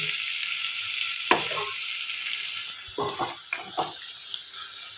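Rinse water from a mixer bowl hits a pan of cauliflower roast cooking in hot oil, setting off a loud, steady hiss of sizzling with a few sharp clattering stirs and scrapes.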